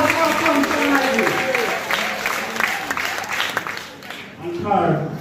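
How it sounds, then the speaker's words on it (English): A crowd applauds at a celebratory function, the steady clapping running beneath a voice talking over it for the whole stretch. "Give them a round of applause for a function like this."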